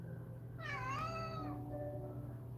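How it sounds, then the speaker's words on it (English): A pet cat gives one clear, close meow that rises and falls, followed by a softer short trailing sound, over a low steady indoor hum. "Look at my cat."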